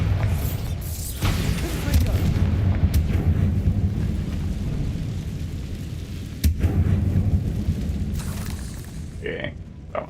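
A Bombarda explosion spell going off in the Hogwarts Legacy video game, a couple of dull booming blasts with rumbling low end over steady game ambience, with a voice talking over it.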